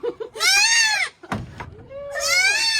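A goat bleats loudly twice, long wavering cries separated by a brief thud and some rustling, close by.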